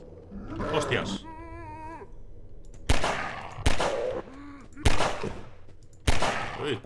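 Sharp, loud gunshots ring out at intervals in the video game Transmissions: Element 120, several single blasts with echoing tails, mixed with other game sounds and a whining tone early on.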